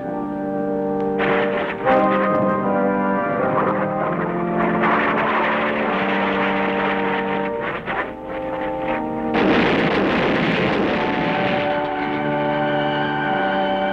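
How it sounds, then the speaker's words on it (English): A plane diving in wartime, its engine a loud sustained droning whine with steady overtones, swelling and dipping before surging sharply louder near the end. "A plane dives toward destiny, disintegrates in explosive agony."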